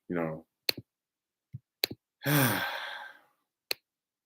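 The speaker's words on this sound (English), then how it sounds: "I keep clicking because I keep trying to grab this button." Several sharp, isolated mouse clicks spaced irregularly while repeatedly trying to grab an on-screen button, with a couple of audible sighs between them.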